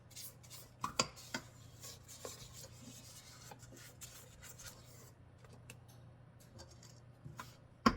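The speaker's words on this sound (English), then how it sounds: "Then I'm going to scrape down the sides." A spatula scrapes down the sides of a mixing bowl of spice cake batter, quiet rubbing strokes with a few sharper knocks over a low steady hum, close by, with no talking.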